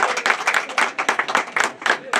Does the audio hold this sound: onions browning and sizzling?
no